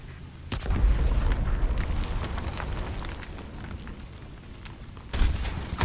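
Two heavy tank cannon shots from a T26E1-1 Super Pershing in War Thunder, each a sharp, loud blast, the first followed by a long rumbling decay and the second coming near the end.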